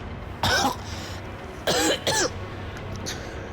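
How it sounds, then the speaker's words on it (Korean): A person coughs in pain: one harsh cough, a pause, then two more close together, near and fairly loud over a low background hum. "뒤에서 괴로운 기침 소리가 들리는 거예요"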